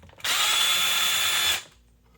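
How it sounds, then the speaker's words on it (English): A power drill fitted with a T10 bit whirs steadily for about a second and a half at close range, then spins down to quiet. "Here's my drill with another T10"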